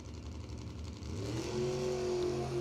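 A drag racing Camaro and a Wachowski Racing Vega launch off the line at a door-car event, their engines rising from a rumble into a loud, climbing rev.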